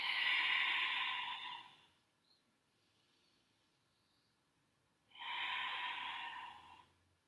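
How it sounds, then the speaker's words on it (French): Two long, loud breaths during an exercise session, a strong inhale or exhale of about two seconds, then a pause and a second equally forceful breath, close to the mic with no talking. "J'inspire en haut, je souffle, je redescends."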